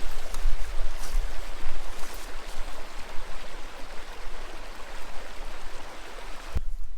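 Creek water rushing steadily over rocks as a dog wades across, a broad continuous wash of flow up close with no voices, ending in a sudden cutoff.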